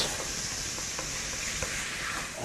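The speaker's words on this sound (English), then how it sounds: "Just put it in a pan and give a good mix" Butter stirred in a hot pan, giving a steady broadband sizzle with faint scraping strokes throughout, close and fairly quiet, no voices.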